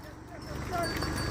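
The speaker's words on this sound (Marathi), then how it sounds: "एवढ्या गाय घेऊन रस्त्यानं चालले" Hooves clop on a hard main road as a herd of about 170 cows walks past, with people talking over the steady shuffling.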